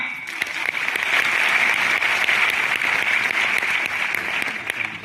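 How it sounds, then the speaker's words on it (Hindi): An audience claps loudly and steadily for several seconds, a dense wash of applause without cheering. "बहुत सुंदर, प्रदीप जी के लिए तालियां।"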